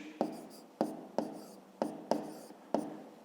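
A pen writes in a notebook during a fifth-grade maths exercise, producing six distinct scratchy strokes at irregular intervals, each starting sharply and fading, quiet and close.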